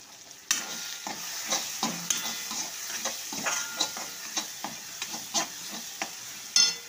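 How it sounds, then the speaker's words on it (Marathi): Tomatoes sautéed in a pan for a besan and capsicum bhaji, with a soft frying sizzle under repeated spatula stirs and scrapes coming in an uneven rhythm, close up, and no speech. "असं छान परतून करायचं।"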